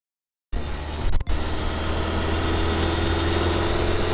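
A car engine idles steadily after starting, a continuous low rumble with a brief dip early on, close and alone without speech.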